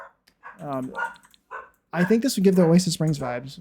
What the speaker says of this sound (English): So pardon my dog if you can hear her freaking out.